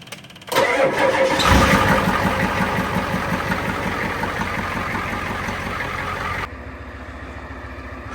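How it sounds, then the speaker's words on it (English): A plow truck engine starts up in extreme Alaskan cold, around fifty below. The starter cranks briefly, then the engine catches and runs loudly with a rapid pulsing beat before settling to a quieter idle near the end. "We're gonna see if the plow truck will fire up and get this yard plowed."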